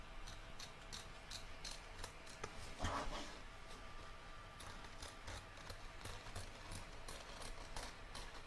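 Scissors cut embroidery stabilizer away from a stitched in-the-hoop piece, with quiet, steady repeated snips and clicks close by and one slightly louder rustle.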